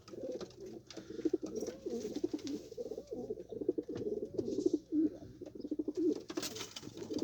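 Pigeons in a loft coo softly and repeatedly at close range, a low rolling murmur with faint rustling in the background.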